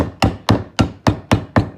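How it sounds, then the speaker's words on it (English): Seven sharp, evenly spaced taps of a soft-faced hammer driving a rear wheel bearing into a 2015 Honda TRX Rancher 420 ATV, close by, each a dull knock with a short ring, no talking. "I'm going to start that in with the soft-faced hammer."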